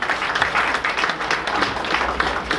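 Audience applause at an offline MMM South Africa event in Pietermaritzburg, a sustained burst of many hands clapping at full strength, dense and continuous across the whole stretch.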